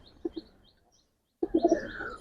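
Giribaz and colouring pigeons give a couple of short, low coos, fall briefly silent, then burst into a close cluster of throaty coos and fluttery calls.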